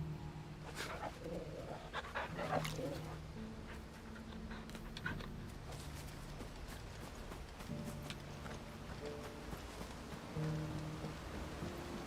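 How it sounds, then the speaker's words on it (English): A video game dog pants and whimpers nearby over a faint patter of rain, breathing in uneven bursts with a few softer whines. "We got our Bloodborne dog here."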